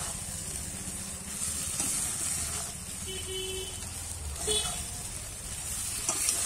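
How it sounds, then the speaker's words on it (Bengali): Fried prawns are stirred into a cooked masala in a pan, making a soft hissing sizzle with occasional faint scrapes and clinks from the spoon. "দিয়ে একটু নাড়াচাড়া করে নেব"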